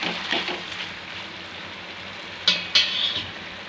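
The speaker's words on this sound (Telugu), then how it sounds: "తోలు విడిపోయే వరకు వేయించుకోవాలి" Tomatoes for a tomato chutney fry in a pan until their skins loosen, with a soft, continuous sizzle and two sharp utensil scrapes and clinks near the end.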